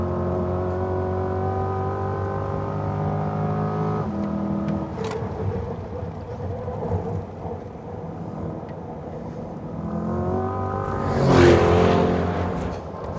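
A 2020 Chevrolet Corvette Stingray C8 Z51 accelerates hard on a race track, its engine note rising in steady pulls with gear changes, then surging loudly near the end, heard from close by without talk.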